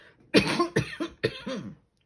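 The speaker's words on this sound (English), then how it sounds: "Excuse me, I'm going to cough." Three quick, close coughs in a row, each a sharp burst followed by a short rasp, then quiet.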